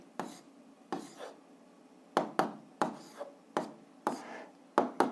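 A pen scratches numbers onto paper during a seventh-grade algebra exercise, in short, close scratchy strokes coming in uneven bursts with quiet pauses between them.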